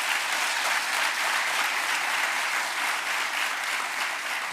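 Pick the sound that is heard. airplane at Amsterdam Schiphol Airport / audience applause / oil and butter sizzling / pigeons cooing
audience applause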